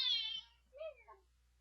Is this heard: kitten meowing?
yes